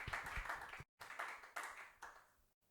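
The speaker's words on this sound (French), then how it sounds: "Acclamez fort" A church congregation claps in applause during a Sunday service, a steady dense roll of many hands heard from close by, briefly cut off twice and fading toward the end.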